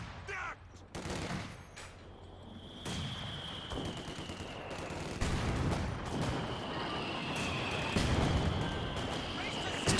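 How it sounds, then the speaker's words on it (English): Mortar shells firing and crashing down in a Company of Heroes 2 match, a string of sharp booms and gunfire bursts spread over steady battle noise, with talk running underneath. "it's so easy for them, for both mortar shells to land on a 4-man squad and just wipe it in one hit"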